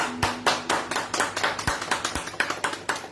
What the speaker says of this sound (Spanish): así que hago un fuerte aplauso al Señor